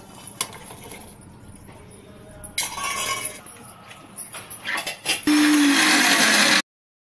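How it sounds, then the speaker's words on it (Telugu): Garlic is pulsed in a mixer grinder, a loud, even motor whir of about a second after light clinking and rattling of the jar and lid, ending abruptly. "ఇప్పుడు ఎల్లిపాయలు కూడా మిక్స్ చేసుకుందాం."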